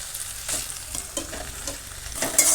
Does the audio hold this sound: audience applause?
no